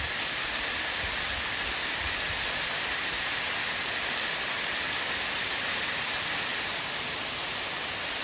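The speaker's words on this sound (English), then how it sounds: "to all the rain that we've had lately is this beautiful waterfall" A waterfall at the Paw Paw Tunnel, swollen by recent heavy rain, gives a steady, unbroken roar of rushing water that holds even and full throughout, with no voices over it.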